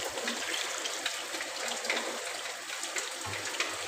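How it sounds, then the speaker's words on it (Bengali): Water poured into a pot of chicken cooking on the stove, a steady close gush and splash lasting throughout at even loudness, with no talk. "পরিমাণ মতো জল দিয়ে দিচ্ছি।"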